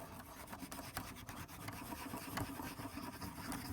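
A cotton swab scrubs a car key fob circuit board clean with quiet, close rubbing and scratchy strokes that repeat steadily and softly.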